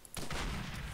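Rapid, dense bursts of MG42 machine gun fire in the World War II shooter Medal of Honor: Allied Assault, loud and close, starting sharply and running continuously without a break, no talk over it.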